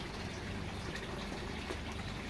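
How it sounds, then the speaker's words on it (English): Water is poured onto a dying potted plant being revived, a soft, steady splashing and trickling that runs quietly and evenly throughout, with no voices. "So we're going to water the plant"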